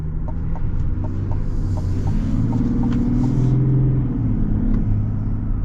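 A 2024 GMC Sierra 1500 with the LZO 3.0 Duramax turbodiesel rumbles steadily up close, a low continuous engine drone with faint turbo whoosh layered over it, no talking.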